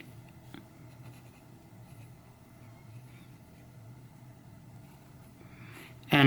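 A Conklin Duragraph fountain pen with a Smoother Pro nib scratches softly across paper in a faint, continuous stroke over a low background hum, ending in a sudden louder noise.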